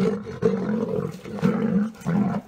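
A lion roaring in several loud, throaty pulses in quick succession, close and heavy with no talk over it.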